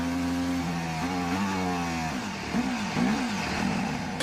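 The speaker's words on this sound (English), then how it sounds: "The engine sounds heavy." A Formula 1 car engine running rough and smoking on track gives a heavy, uneven drone that wavers and stutters in pitch, steady at first then faltering with irregular surges, with radio-like voices faint beneath.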